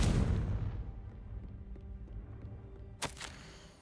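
A Confringo blasting spell explodes in Hogwarts Legacy, opening with a loud, broad burst that rumbles and fades over a couple of seconds, followed by a sharp crack near the end.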